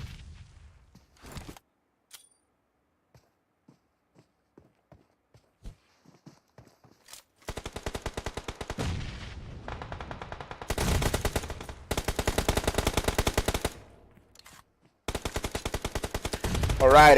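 Rapid automatic gunfire in an esports battle-royale shooter, with sparse isolated shots and footsteps first, then long loud sustained bursts of rattling fire in several stretches.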